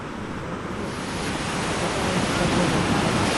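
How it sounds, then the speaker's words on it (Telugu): A flooded Vanrikal stream in Telangana, swollen by heavy rain and spilling across a road, gives a dense, steady roar of rushing water that builds slightly louder throughout. "వన్రికల్ వాగు ఉప్పొంగుతూ ఉండడంతో రోడ్డుపైకి వరద నీరు వచ్చి రాకపోకలకు అంతరాయం ఏర్పడింది"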